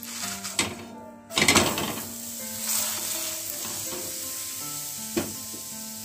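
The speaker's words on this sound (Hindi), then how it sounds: "अब हम पलटे की मदद से तेल को ऐसे पूरे पराठे में घस लेंगे और इसको पलट देंगे।" Aloo paratha sizzles in oil on a hot griddle while a spatula spreads oil across it, giving a steady frying hiss with a few scraping bursts and a soft clatter, without speech.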